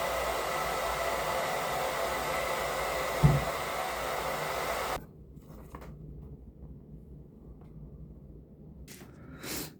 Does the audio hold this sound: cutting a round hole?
yes